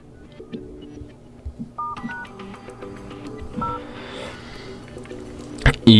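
Keypad tones from an ASUS ZenFone 8 dialer as a code of stars, hashes and digits is entered, a quick run of short beeps of varying pitch, close and fairly quiet.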